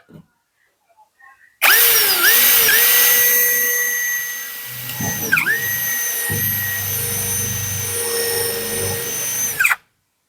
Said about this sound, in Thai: อันนี้คือเจาะ